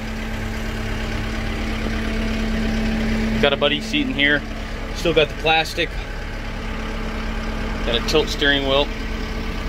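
A low-hour, one-owner tractor idling with a steady, even engine drone and a persistent low hum throughout, while someone talks intermittently over it nearby.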